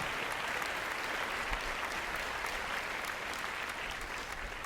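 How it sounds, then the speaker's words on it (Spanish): Steady applause from a church congregation fills the space, a dense even patter of many hands clapping continuously without pause, moderately distant and without voices over it. "Denle un aplauso al Señor."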